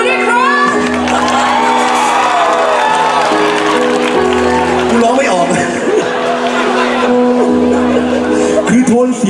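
A concert audience at CentralFestival Hatyai claps, shouts and whoops for the singer, a loud, dense wash of applause and cheering mixed with voices and lingering musical tones.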